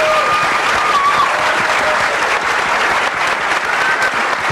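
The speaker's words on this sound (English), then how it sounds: "How about a big round of applause for all of our panelists" A crowd applauds panelists at the close of a minimum wage debate event, dense loud clapping sustained throughout, with faint cheers or whistles mixed in.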